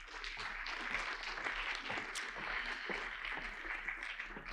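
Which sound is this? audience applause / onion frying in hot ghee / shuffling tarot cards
audience applause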